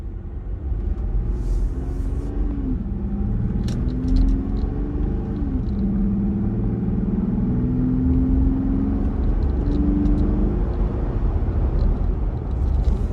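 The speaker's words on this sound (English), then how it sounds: "I'm gonna give you some sound from a takeoff through acceleration." The exhaust of a 2025 Jeep Gladiator pulls away from a stop and accelerates, a deep steady rumble with rising engine tones as it climbs through the gears, close and moderately loud, with no talk.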